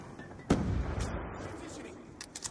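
A single sharp gunshot in Black Ops II cracks out close and loud, its echo fading away, followed by a few fainter clicks and small game sounds.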